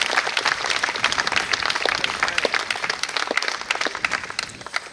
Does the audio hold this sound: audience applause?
yes